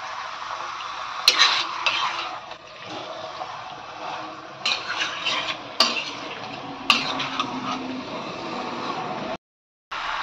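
Chicken stirred in a pan before the lid goes on, with a few sharp clanks of a utensil against the metal over a soft, steady cooking hiss.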